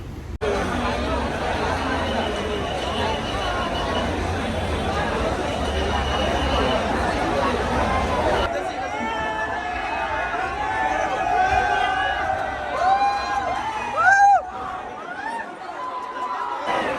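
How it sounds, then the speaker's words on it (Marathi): Dense crowd at a Mumbai station during the Indian cricket team's celebration, a steady babble of many voices close around with shuffling and a few brief shouts, continuing throughout the clip. "तुम्ही बघू शकता इकडे फुल गर्दी"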